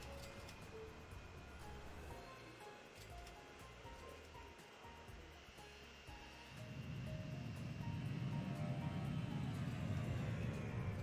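Aircraft engines in the video game Transport Fever give a steady droning hum that swells louder and fuller partway through, continuing as a sustained roar to the end with no talk.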